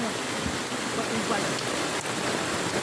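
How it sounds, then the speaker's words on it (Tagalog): A dense, constant rush of a fast-flowing swollen river roars steadily without pause, loud and close. "Laki na ng ilog."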